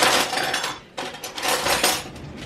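Cutlery rattling and clattering close by as someone rummages through utensils for a butter knife, a dense metallic jangle with a short pause before the clinking resumes.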